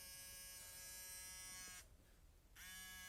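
A WAHL ear, nose and brow trimmer's small motor whines close up with a steady high buzz, cuts off briefly, then starts again.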